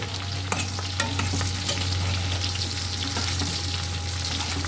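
Raisins frying in hot oil in a pan with capsicum for a mixed vegetable dish, giving a steady close sizzle with occasional stirring clicks and a low constant hum underneath, no voices.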